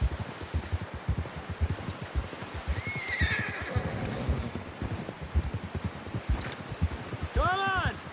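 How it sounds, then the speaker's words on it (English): In Red Dead Redemption 2, a horse gives a loud quavering neigh near the end, after steady clip-clop hoofbeats, with rain-like patter in the background. "Someone help John down off this horse."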